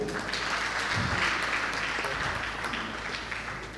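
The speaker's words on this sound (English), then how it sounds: "Give a clap for him." Sustained audience applause for a speaker at a homoeopathic postgraduate conference, a dense steady clapping from a crowd filling the room for the whole stretch.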